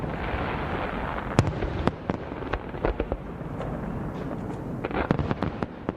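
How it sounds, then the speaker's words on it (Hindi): Celebratory Victory Day fireworks near Moscow: a constant crackling roar broken by scattered sharp reports, which bunch into a quick cluster of bangs toward the end. No voices are heard. "मॉस्को में विक्ट्री डे की याद में ही शानदार आतिशबाजी की गई है।"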